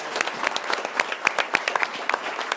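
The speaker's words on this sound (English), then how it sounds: "applause." Audience clapping at a school board meeting, a brief round of applause from a modest crowd with distinct individual claps, fairly close and steady.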